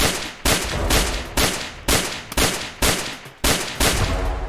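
Killjoy's turret in Valorant firing rapid bursts of gunfire, seven sharp, loud volleys in a steady, evenly spaced rhythm with no talk over them.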